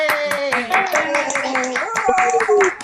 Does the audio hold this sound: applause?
yes